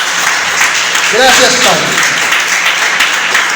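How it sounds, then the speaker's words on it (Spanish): A church congregation applauds steadily throughout after a Spanish-language sermon on fasting and forgiveness, a dense, even wash of clapping while a voice speaks briefly over it. "Denle un aplauso al Señor."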